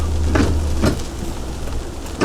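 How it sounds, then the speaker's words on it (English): Heavy rain from Hurricane Sally hisses steadily across the whole clip, a dense broadband wash with a few brief louder gusts or spatters, falling in bands. "So the rain has about doubled in the last hour."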